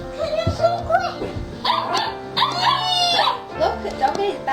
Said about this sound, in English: Look at Doggy, it's barking at Doggy